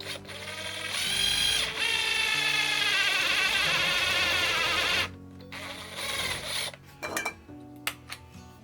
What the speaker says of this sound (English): So now I will drill a hole for my magnet.